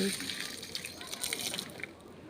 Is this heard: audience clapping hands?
no